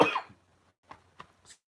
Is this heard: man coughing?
yes